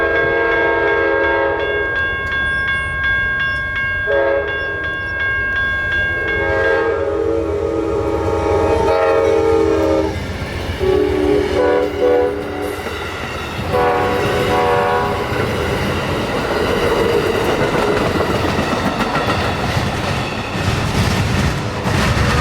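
Train passing between Plant City and Lakeland, Florida, with a loud multi-tone horn blowing in long and short blasts over the rumble and clatter of rail cars, close and dominant throughout.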